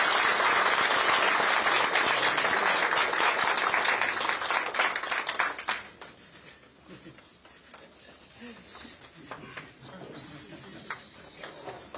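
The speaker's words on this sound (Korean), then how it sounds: "격려의 큰 박수 좀 부탁드립니다" Loud crowd applause at a political party meeting for several seconds, then fading off to a quieter room with scattered claps and murmuring.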